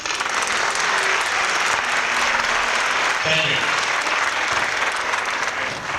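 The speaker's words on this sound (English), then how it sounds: "A nice warm round of applause for the master." A convention audience gives a sustained, dense round of applause that stays steady and loud throughout, with a brief spoken thanks heard over it.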